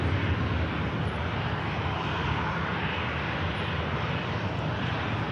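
A Ryanair airliner holds on the airfield at Manchester Airport, its engines giving a steady, loud, broadband roar that stays even from start to finish, close and without speech.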